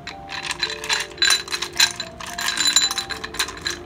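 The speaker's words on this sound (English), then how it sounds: "Let's roll the dice." Dice tumble and clatter on a hard surface during a tarot reading, with a steady run of sharp little clicks and clinks for several seconds, no voices.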